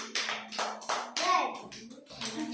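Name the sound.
children clapping hands in a classroom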